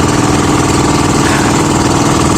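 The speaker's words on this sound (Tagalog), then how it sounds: "Dalawang makina ng aming kalaki bangka." Two engines of a boat idle together at sea, a loud, close, continuous mechanical drone with a steady low throb and a dense rattling texture. It carries on unbroken, and no one talks.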